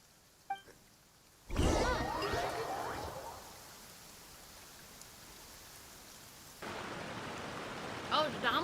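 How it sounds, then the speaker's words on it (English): Heavy downpour in Genshin Impact, a sudden loud rush of rain that swells, settles into a steady hiss, then thickens again near the end, with a brief voice early on. "Oh, it's downpouring now."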